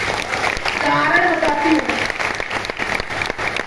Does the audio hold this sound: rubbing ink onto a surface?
no